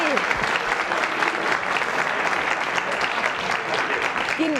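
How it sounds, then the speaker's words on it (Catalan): Studio audience on a 1995 TV game show applauds warmly, a full steady roar of clapping at constant loudness, with faint speech edging in near the start and end. "Quin aplaudiment li estan brindant."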